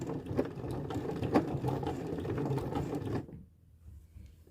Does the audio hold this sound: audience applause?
no